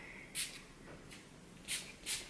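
Leave-in conditioning milk spray bottle misting onto hair, three to four short close hissing bursts separated by pauses.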